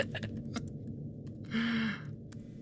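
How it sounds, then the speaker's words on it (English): Keyboard typing: several quick clicks, then a soft breathy sigh-like noise, and a few more keystrokes, all faint and close with no talk. "I hear typing, which is very satisfying to me as a writer."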